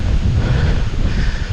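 Strong outdoor wind blows loudly and continuously, a deep roaring rumble that buffets the microphone with gusty surges and no voices over it.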